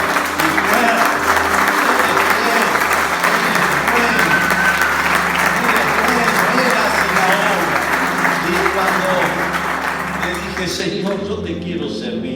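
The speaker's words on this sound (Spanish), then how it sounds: "Dale un aplauso al Señor." Loud, sustained applause from a church congregation during a Spanish-language missionary service, a thick continuous clatter of many hands lasting over ten seconds, with voices calling out underneath before it thins at the end.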